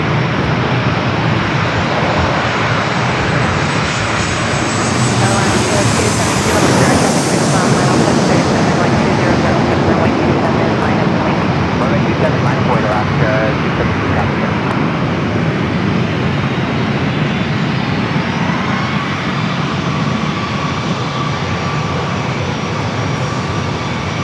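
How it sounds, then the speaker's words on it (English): Airliners, a Boeing 737-900ER and a 737 MAX 8, arriving at San Diego airport, a loud sustained jet engine roar swelling and fading as one passes close by, with a commentator's voice faintly under it. "Next arrival is Alaska Flight 338 coming up from Seattle, 737-900ER, followed by Air Canada Flight 1077 coming up from Toronto, a 737 MAX 8."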